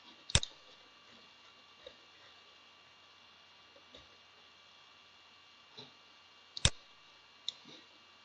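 Computer mouse clicks while working in Prezi, two sharp close clicks several seconds apart with a few fainter ticks between them, over a quiet steady electrical hum.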